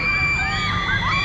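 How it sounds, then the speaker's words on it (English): Distant screams from riders on the Swarm wing roller coaster at Thorpe Park rise and fall briefly over steady crowd and park noise. "can you hear him screaming?"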